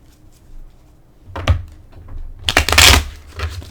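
A deck of oracle cards being shuffled in quick bursts, with soft riffling and papery slaps close to the microphone and a quiet pause between.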